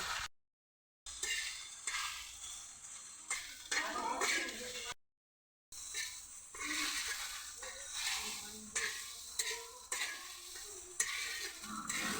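Okra sizzles and crackles in a pan of oil while it is stirred, with scraping strokes and brief pauses, close and fairly quiet, with no clear talk.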